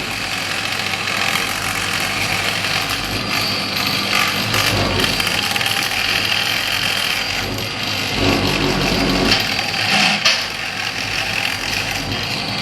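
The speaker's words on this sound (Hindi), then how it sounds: "ये मशीन ड्रिलिंग एंडिंग मशीन है, इसे जो चप्पल में छेद हुए उनमें फिनिशिंग देनी होती है।" A drilling and finishing machine smooths holes punched in slipper soles in a small home workshop, giving a continuous loud mechanical whirring and rumbling drone with small surges throughout, and no talk.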